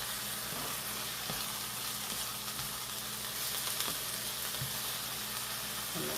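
Onion and garlic frying in a pan give a steady, soft sizzle that holds at an even level throughout, with a few faint clicks and stirring sounds and no talking.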